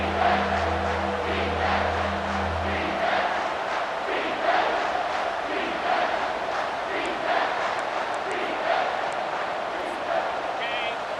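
A home football crowd roars steadily throughout as the defense tries to get off the field on third down, a dense, loud wash of cheering and shouting with a low rumble early on.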